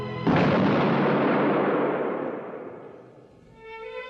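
A firing squad fires a single loud rifle volley that booms out abruptly and then rolls away in a long echoing decay lasting several seconds.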